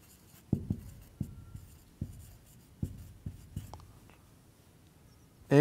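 A pen writes an equation by hand in a quiet room, making a series of sharp taps and short scratchy strokes at irregular intervals, close and fairly soft.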